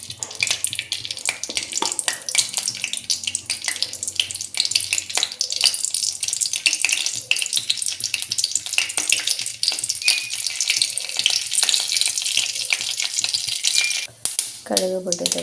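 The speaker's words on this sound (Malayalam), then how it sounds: "എണ്ണ ചൂടായി കടുകിട്ട് കൊടുക്കുക." Mustard seeds dropped into hot oil in a pan for a colocasia stem stir-fry sizzle and crackle in a continuous bright hiss with rapid popping spatters, loud and close throughout, ending with a brief thud near the finish.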